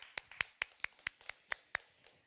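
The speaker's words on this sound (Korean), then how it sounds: "우리 하나님께 영광의 박수 한번 올려드리도록 하겠습니다." Faint, evenly spaced handclaps ring out in a church service, about nine sharp claps in a steady rhythm with no talking.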